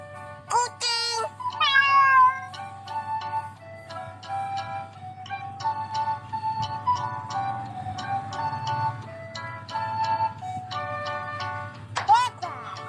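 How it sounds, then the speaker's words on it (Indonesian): An animal puzzle toy plays electronic cat meows, a run of short, bright, synthetic calls mixed with toy chimes and beeps over a low steady hum. "Kucing."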